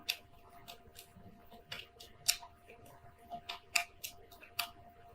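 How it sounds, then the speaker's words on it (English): Tarot cards are shuffled by hand, giving faint, scattered snaps and soft riffling clicks at an uneven pace in a quiet room. "let me shuffle here with these, call them my clarifying cards"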